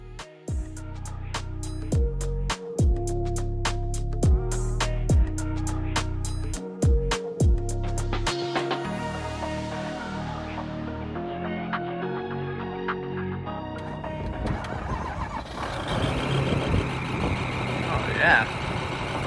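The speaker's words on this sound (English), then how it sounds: "I'm gonna go ahead and pull in the forklift and get this thing out of the shop." A forklift's heavy engine rumbles as it drives into a shop, with a regular series of reversing beeps at first, then machinery noise and clatter later on.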